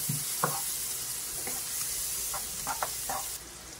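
Garlic and red onion fry in butter in a pan, a soft steady sizzle broken by a few light scrapes and taps as they are stirred.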